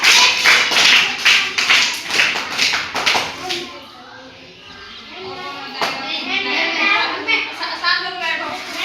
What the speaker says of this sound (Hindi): सब इसके लिए ताली बजाओ